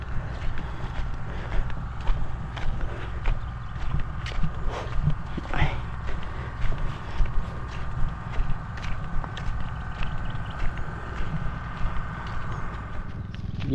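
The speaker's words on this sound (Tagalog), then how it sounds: "lakas natin ng konti yung makina" A small engine drives an irrigation water pump in a farm field, chugging steadily at close range with a rhythmic knock throughout, while a voice talks intermittently over it.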